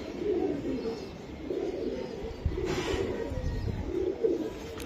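Racing pigeon cooing in repeated soft, low phrases, close and steady, with faint background noise.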